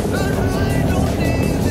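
A Sea-Doo jet ski roars on choppy water in Galveston Bay, a loud, continuous engine drone mixed with rushing spray and wind noise.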